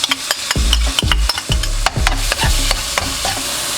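Garlic and ginger sizzle in oil in a pan while a spoon scrapes and stirs in quick, regular strokes, close and fairly loud.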